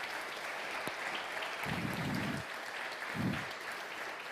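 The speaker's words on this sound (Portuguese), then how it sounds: "Você pode aplaudir o Senhor?" A church congregation applauds in a continuous, moderately loud wash of clapping, with low, muffled thumps breaking through briefly, and no one speaking over it.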